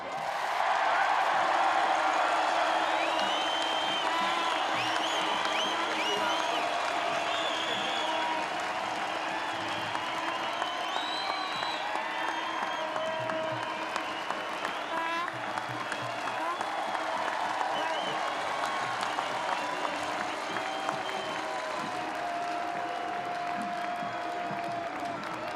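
A large crowd at a 1999 Auckland versus Wellington rugby match applauds and cheers steadily throughout, a dense, sustained wash of clapping with scattered shouts and voices mixed in.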